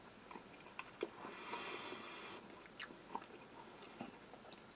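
Sardines in lemon oil from a Czech army combat ration being chewed, with soft, close mouth sounds and a few sharp bites and crunches scattered over a few seconds.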